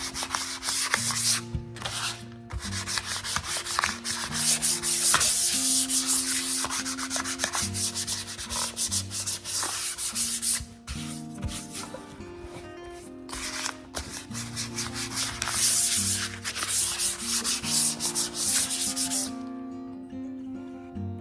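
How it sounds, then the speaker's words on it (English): Sandpaper rubbed by hand over an electric guitar's wooden body worked with filler, producing steady, close scratchy strokes in bursts with brief pauses, alone without talk, under a faint tonal background. "idea of using sandpaper to put it in is that what you're doing is making really fine bits of dust, as well as the filler"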